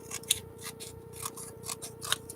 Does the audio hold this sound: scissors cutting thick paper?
yes